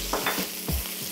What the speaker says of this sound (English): Next, we're gonna throw our ginger in.